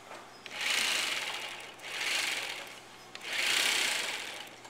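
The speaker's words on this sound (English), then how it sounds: "This is the front princess panel seam, and I'm going to overlock it" An overlocker serges the front princess panel seam of a blouse, trimming about an eighth of an inch as it runs, in three steady bursts of close, loud, buzzing stitching separated by brief pauses.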